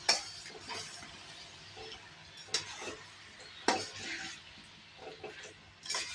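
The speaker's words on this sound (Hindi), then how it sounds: "और अब हमें मीडियम आंच पे आम को पका लेना है। इसे मिक्स कर दीजिए।" Mango pickle cooking in a pan over medium heat, stirred with a spoon in irregular scrapes and clinks, a few sharper knocks against the pan over a quiet low sizzle, no talking.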